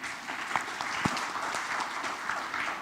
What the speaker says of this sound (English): Applause to Mr. Bird.